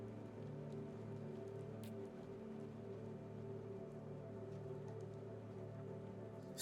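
Steady rain pours over a burning highway pileup with a tanker fire in the video game Dispatch, a dense continuous hiss over a low rumbling bed, with no pauses.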